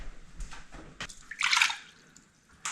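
Water poured into a container for making custard, a brief liquid splash and trickle rising then fading, fairly quiet, with a few small knocks around it.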